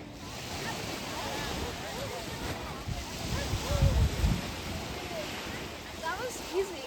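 Open-water waves washing around swimmers at a lifeguarded 4-H camp swimming area, heard as a steady, close rush of surf with wind buffeting the microphone.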